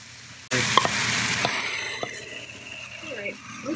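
Shiitake mushrooms stir-fry in canola oil in a seasoned wok, giving a loud, steady broadband sizzle that starts abruptly, with scraping stirs and a few light clinks, and it fades a little as the pan settles.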